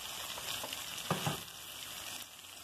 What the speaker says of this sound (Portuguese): E agora nós vamos fritar o nosso quiabo.